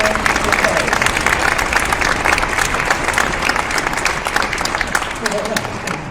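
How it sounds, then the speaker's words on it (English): A concert audience applauds a chamber group in a hall: dense, sustained clapping from many hands, loud and close, with a voice speaking over it. "how about a round of applause for that chamber group that played at the beginning of this concert?"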